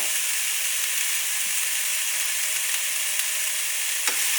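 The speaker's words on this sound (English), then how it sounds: "I'm going to saute this for about 3 to 5 minutes." Diced jalapeño and chopped asparagus sautéing in a pan give a loud, steady sizzling hiss close by, with a couple of faint clicks and no voices.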